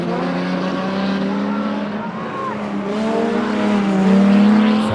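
Stock car engines roaring around a racetrack, including a BMW, a loud sustained droning rev that climbs in pitch toward the end, with tyre noise and faint commentary underneath.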